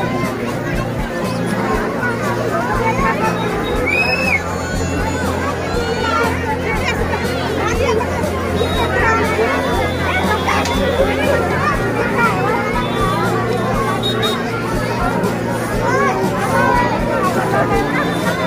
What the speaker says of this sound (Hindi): और भाई भीड़ देखो गाइस